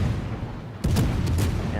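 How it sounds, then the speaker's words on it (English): Incoming shell fire in World of Warships crashes in as a sudden loud boom partway through, followed by a couple of further impacts over a rumbling battle background. "We've set him on fire, and here comes his shells."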